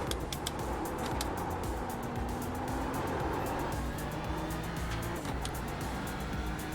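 A GT3 car in the iRacing sim at Sonoma, held at full throttle through a section of track. The engine drones steadily and loudly for about seven seconds, with faint tire noise.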